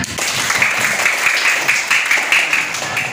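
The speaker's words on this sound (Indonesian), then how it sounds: "tepuk tangan" A class claps together in a steady, fairly loud burst of applause lasting a few seconds, with no pause.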